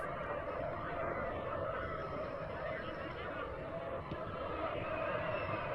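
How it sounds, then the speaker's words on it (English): Nepal supporters chant and cheer continuously from the stands at a WAFF women's football match against Iraq, a steady, distant massed crowd roar throughout with a commentator talking over it. "The chanting has been there to show their support to their players."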